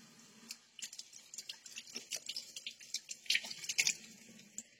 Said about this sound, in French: Je commence donc par me mouiller les mains.